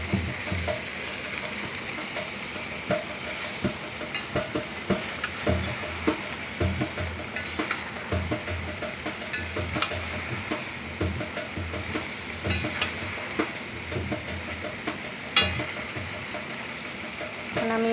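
Leafy greens fry in a pan with a steady sizzle and crackle, broken by repeated stirring scrapes and clatters, close and moderately loud throughout.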